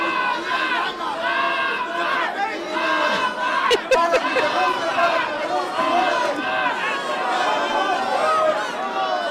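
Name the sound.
boxing crowd cheering inside the Chumash Casino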